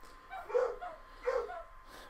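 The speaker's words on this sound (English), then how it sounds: "And my fucking dogs are barking." Dogs barking indoors in two short bursts of yips and barks, moderately close but not loud, with quiet gaps between.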